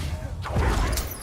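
A Confringo blasting spell from Hogwarts Legacy strikes with a swooshing whoosh followed by a heavy thudding crash, one short loud impact in game combat noise.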